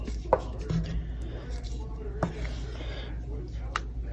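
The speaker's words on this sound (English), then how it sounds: "Mush some more of those beans against the side." A wooden spoon mashes and stirs thickening red beans in a pot, making soft thuds, knocks and rubbing scrapes against the pot's side, with a low steady hum underneath and someone talking.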